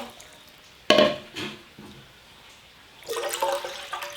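About 1.5 liters of water is poured into a cooking pot to boil beef for Korean beef and radish soup: a sudden splashing burst, a brief trickle, then a longer rushing pour near the end, close and moderately loud.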